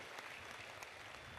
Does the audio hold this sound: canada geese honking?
no